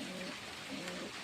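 Pigeons perched in a row coo softly in rainy weather, faint and somewhat distant beneath a constant hiss of rain and background noise.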